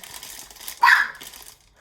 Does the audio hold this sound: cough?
no